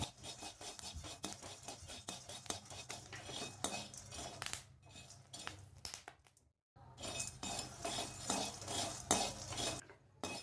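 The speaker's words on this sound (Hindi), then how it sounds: "अब चलाते हुए इसको हमें भूनना है। फ्लेम हाई ही रखेंगे और लगातार इसको चलाते रहेंगे।" Chickpeas are stirred and roasted in a pan on a high flame, with a rapid, busy run of metal scraping and clinking from the spoon against the pan, pausing briefly midway before resuming.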